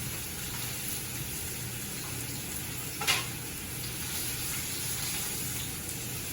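A New York strip steak roasts with butter in a hot pan, making a steady, moderately quiet sizzling hiss with one brief louder crackle midway.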